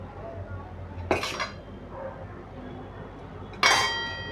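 Gram flour (besan) batter for khaman dhokla being mixed in a bowl, with two sharp clanks of a utensil against the bowl separated by a quiet pause, close and fairly loud.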